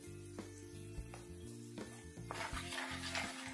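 Chili powder and turmeric are stirred into a cabbage pickle, with a spoon scraping and clinking against the pot in a quick, irregular rhythm and a faint sizzle beneath.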